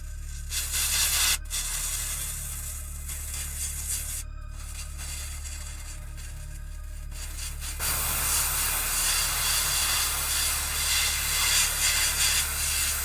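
An airbrush sprays leather brown acrylic paint over a black miniature at a hobby bench, a steady close hiss with brief pauses near the start, then growing louder and fuller for the last few seconds.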